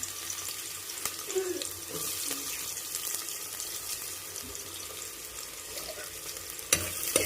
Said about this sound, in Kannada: ಚೆನ್ನಾಗಿ ಎಣ್ಣೆ ಕಾದ್ಮೇಲೆ ಈಗ ಈರುಳ್ಳಿ ಹಾಕೋತಾ ಇದ್ದೀನಿ